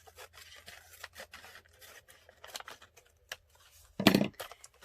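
A paper envelope flap being trimmed, with soft irregular scraping and rustling followed by one louder, sharper cut near the end, close by and without talk.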